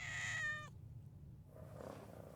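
Single close cat meow, a clear tonal cry lasting about half a second, then fading into quiet room hiss.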